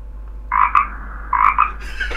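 Frog croak sound played through a Google Home Mini smart speaker connected to a bigger external speaker, two clear ribbiting croak bursts followed by a third, loud and close with no talk.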